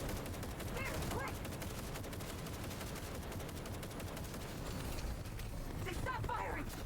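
Rapid gunfire in Cyberpunk 2077 Phantom Liberty, dense bursts of automatic shots crackling continuously at moderate distance, with voices shouting briefly amid the firefight.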